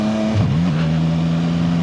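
A CF Moto 750SR motorcycle engine drones loud and steady while riding, with a low humming tone that dips briefly and then settles into an even, continuous note.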